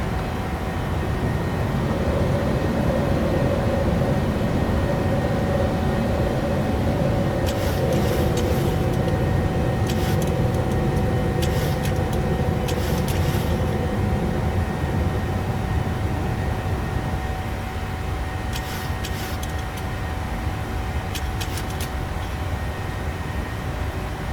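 A Boeing 737-800 jet climbs out after takeoff on a Ketchikan to Wrangell route in a flight simulator, with steady loud broadband engine roar and rumble held throughout and a few brief clicks, no talk.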